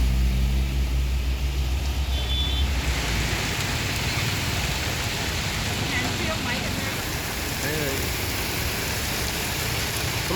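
Monsoon rain falls steadily across Punjab or Balochistan, a dense continuous wash of hiss with low rumbling underneath and faint voices mixed in.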